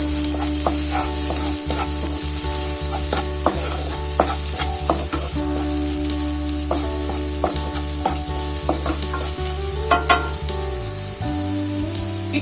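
A tablespoon of freshly pounded ginger garlic paste sizzles in a hot pan while being stirred for a taro curry. Hissing frying runs steadily under repeated scraping and clinking strokes of the spoon, with no talking.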